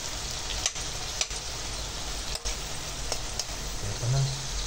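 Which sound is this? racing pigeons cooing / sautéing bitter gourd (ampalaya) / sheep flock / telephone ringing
sautéing bitter gourd (ampalaya)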